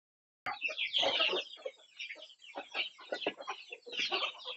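Desi chickens at a village poultry farm cluck and squawk busily up close, a dense, overlapping chatter of calls that starts abruptly and continues throughout, with no talking.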